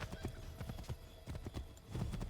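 Horse hooves galloping in the video game Assassin's Creed 3, a quick repeated clip-clop rhythm of hoofbeats, fairly faint, with a brief snort.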